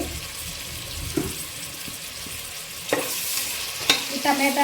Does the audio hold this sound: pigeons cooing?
no